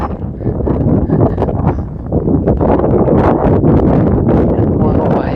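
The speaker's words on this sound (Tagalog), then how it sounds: "Hangin ah." Strong wind on Mt. Kaalas-asan buffets the microphone in a constant low roar, with indistinct voices faintly mixed in.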